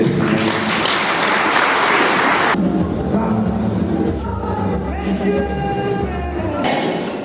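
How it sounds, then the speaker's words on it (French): A crowd in a hall at a memorial service applauds loudly for a couple of seconds, then the clapping cuts off abruptly, leaving a low rumble and faint tonal hum. "applaudissez les Seigneurs"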